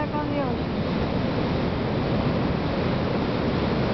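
Pacific Ocean surf breaks and washes along the shore in a loud, unbroken roar, buffeted by wind across the microphone.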